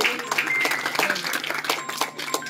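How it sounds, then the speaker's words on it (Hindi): Listeners at a Republic Day award ceremony clap for a class 12 prize winner, a dense, lively patter of many hands filling the whole moment. "मैं चाहूंगा आप जोरदार तालियों के साथ एक बार यहीं से ही उन्हें"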